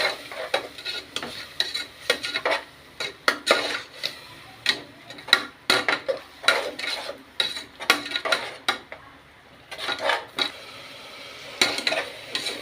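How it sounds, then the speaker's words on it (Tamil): Ingredients for mint rice sautéing in a pan, a spatula scraping and clattering in irregular strokes over a soft frying hiss, close and moderately loud, with no speech. "பாருங்க வதங்கிக்கினே இருக்குது."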